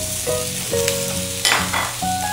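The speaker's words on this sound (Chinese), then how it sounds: "马铃薯先拌炒它。" Diced potatoes stir-fry with onions in a pan, with a steady close sizzle broken by several scrapes and stirring strokes, and no voices.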